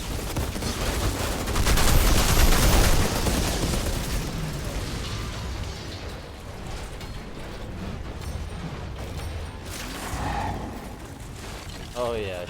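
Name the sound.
gunfire with poison rounds in video game Outriders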